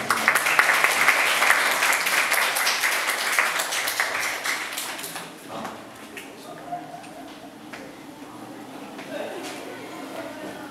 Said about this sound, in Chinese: 那我们就掌声来欢迎